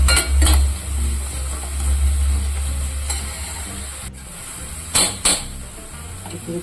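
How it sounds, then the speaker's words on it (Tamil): Tomatoes sauté in a pan with a soft continuous sizzle, broken by a few sharp clinks and scrapes as a spoon stirs against the metal. "எல்லாம் வதங்கட்டும் நல்லா தக்காளியெல்லாம்."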